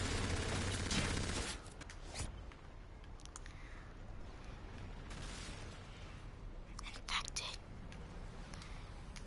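Rapid video game gunfire crackles in dense bursts, loudest in the opening second and a half, then continues as a busy stream of shots and clatter mixed with faint speech.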